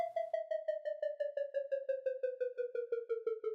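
A synthesized sine tone from FL Studio with an LFO on pitch, sliding steadily downward over a few seconds while pulsing in quick regular volume wobbles, clean and alone with no talk.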